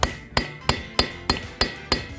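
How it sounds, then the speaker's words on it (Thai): A hammer strikes the middle of a pair of rusty, seized pliers in repeated sharp metallic blows, seven evenly spaced hits ringing close and loud with no talk. "เรานำค้อนมาทุบตรงกลางอีกรอบหนึ่งครับ"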